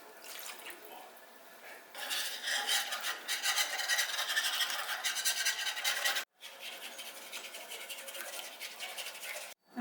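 Liquid sloshing and trickling as half a cup of milk and homemade broth go into a pot of soup, a continuous close pouring sound with a brief break near the end.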